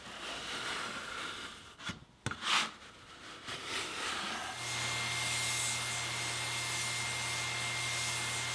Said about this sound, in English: now I'll remove the painter's tape and spray the frames with one more coat of